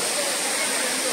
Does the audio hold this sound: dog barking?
no